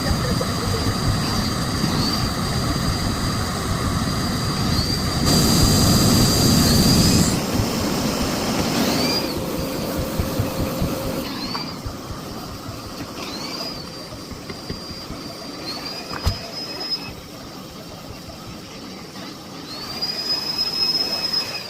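A Miele Blizzard CX1 bagless vacuum cleaner with a turbo brush runs on stairs, a loud continuous whine with rising pitch sweeps and bumps as the head moves from step to step, sped up.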